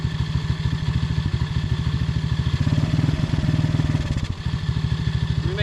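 Chinese 110cc ATV engine idling nearby, a rapid, slightly uneven putter with mechanical clatter that holds steady, rising a little in the middle before settling.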